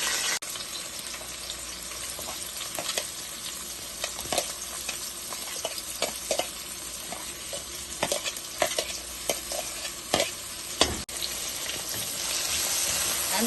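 Onion goes into hot oil with cumin and fries with a steady close sizzle, while scattered sharp clatters and stirring scrapes sound over the hiss and nobody speaks.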